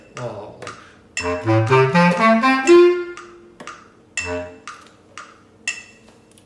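A bass clarinet plays measures 32 and 33 of a high school band audition piece, softly: a smooth rising run of sustained notes, then scattered light clicks and taps as it ends, with a brief voiced exclamation.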